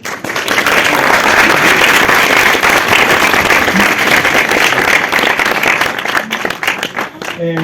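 Loud, sustained applause from an audience at a screenwriting panel, dense clapping filling the whole stretch and tapering slightly near the end.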